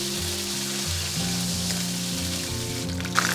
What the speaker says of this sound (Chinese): 牛肉饼我买的是现成的，然后放上去中小火煎。